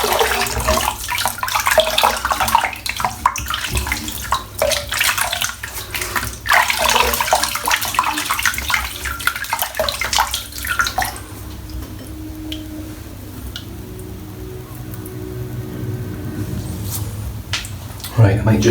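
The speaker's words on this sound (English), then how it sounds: "let's rinse all this off" Running water from a tap while someone rinses off shaving lather, a steady wash with drips and splashes that thins out toward the end.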